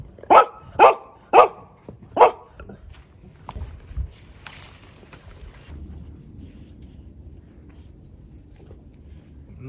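A neighbour's dog next to a garden barbecue in Kamakura barks four times in quick succession, loud and sharp, then falls quiet over a low outdoor hum.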